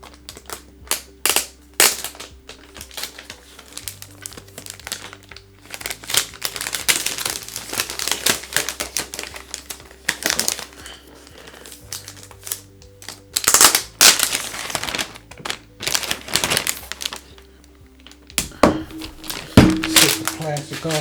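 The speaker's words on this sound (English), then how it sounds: "Set the plastic off to the side." Plastic wrapping is peeled and crinkled off a 2020 Razer Blade 15 base model laptop, mercury white studio edition, producing loud close rustles and crackles in bursts, with someone talking between them.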